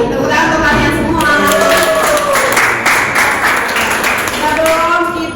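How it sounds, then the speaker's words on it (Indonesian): Applause from a classroom of students, a short burst of clapping lasting several seconds under a teacher's voice. "Tepuk tangan untuk kalian semua"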